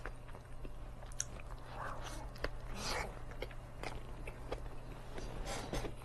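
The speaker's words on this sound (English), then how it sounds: "Last two bites." Someone eating a homemade redbreast sunfish sandwich: soft, close chewing and biting with faint crunches and scrapes over a steady low hum, no talking.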